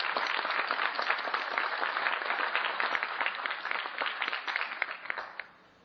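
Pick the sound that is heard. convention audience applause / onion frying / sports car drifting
convention audience applause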